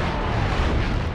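Heavy weapons fire and explosions rumble in the Future Cop: LAPD video game during a boss fight at the La Brea Tar Pits, a loud, continuous, dense barrage.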